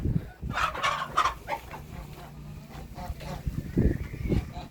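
Backyard hens clucking in a poultry yard, a run of close, uneven clucks and squawks rising and falling in bursts over several seconds, with no talking.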